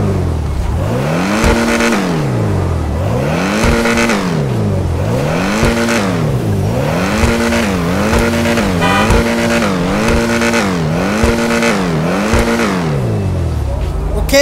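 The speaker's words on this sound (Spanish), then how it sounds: "¿Qué les parece si primero escuchamos el motor de este auto?" An Alfa Romeo car engine in GTA V Online revs repeatedly, loud and close, its pitch climbing and dropping in a regular rise-and-fall rhythm through several gear-like sweeps.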